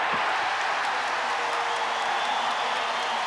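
Basketball arena crowd noise during a Celtics comeback against Chicago, a broad, steady roar of cheering and scattered clapping from a large audience, heard at a distance and holding level throughout.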